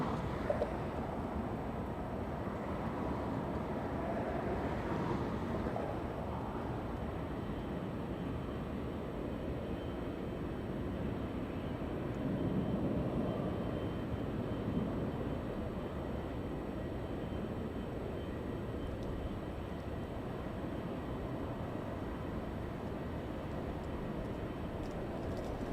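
Cathay Pacific airliner arriving from Dallas and landing on runway 25 left at Los Angeles International Airport, a distant steady jet rumble that swells slightly midway and stays far off under broad outdoor background noise.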